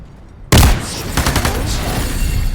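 A loud, close shotgun blast in the game Into the Radius 2 opens with a sharp crack, followed by a dense, continuous burst of rapid gunfire.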